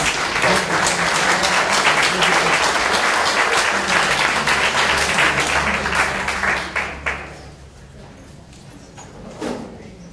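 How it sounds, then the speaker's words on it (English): A town hall meeting audience gives a loud, dense round of applause for a guest that holds steady for about seven seconds, then thins into scattered claps and fades. "So a big round of applause, please, for Mark."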